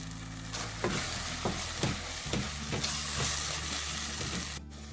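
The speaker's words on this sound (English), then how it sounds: "After sauteing for a minute" Turmeric, chilli powder and garam masala sautéing in a pan for empty biryani, a steady close sizzle broken by a regular series of scraping stirs, about one stroke every half second.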